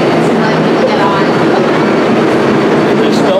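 A New York subway train rolls past, loud and close, with a continuous roar of wheels and rail clatter filling the whole stretch.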